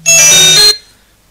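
Telephone ringtone during a broadcast religious talk show, a single loud bright electronic ring lasting under a second, then cut off to near silence.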